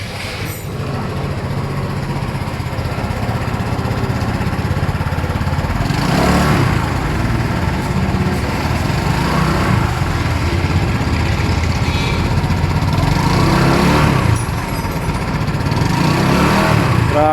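A Motorstar Easyride 150P motorcycle engine rumbling steadily up close, a loud continuous chugging idle with occasional swells in intensity, no talking.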